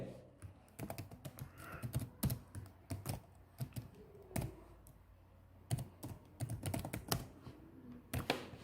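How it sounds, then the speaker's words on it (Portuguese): Typing on a computer keyboard: irregular bursts of crisp key clicks and taps, close but fairly quiet, with brief pauses between runs of keystrokes. "eu vou digitar apenas o texto no qual eu quero"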